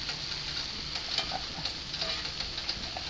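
Beef and eggplant casserole cooks in a pan with a steady close sizzle of frying and occasional light stirring clicks, alone without talk.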